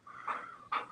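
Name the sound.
dog panting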